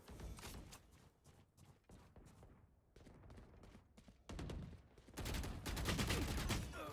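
Rapid bursts of gunfire from a Spectre gun in a first-person shooter game, volleys stuttering and stopping in short runs before a loud sustained stream near the end, no talking.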